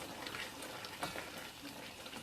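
Peppered snails cooking with bouillon sauce in a pan, a steady close sizzle and bubbling with faint stirring scrapes, moderately quiet and without speech.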